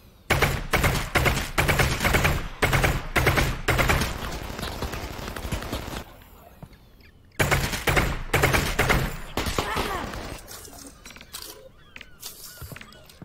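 Rapid bursts of gunfire from a VR shooter, Half-Life: Alyx on a custom Lost Coast map, crack out in dense volleys, pause, then resume in another sustained run before tapering into scattered shots.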